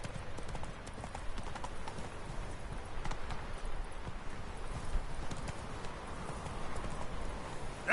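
The horse Roach gallops in The Witcher 3, with steady, continuous hoofbeats clip-clopping close by throughout, with no voices over them.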